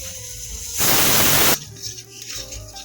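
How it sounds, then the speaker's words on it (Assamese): Fish curry ingredients, including coriander, frying in a pan with a loud burst of hissing sizzle lasting under a second, then quieter crackling and clatter. "এইখিনি আৰু অলপমান ভাজি লওঁ মই।"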